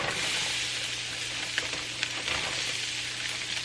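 Onions frying in a heated pan for bao bun filling give a steady, close sizzle and hiss throughout, with a couple of light clicks as they are moved, and no talking.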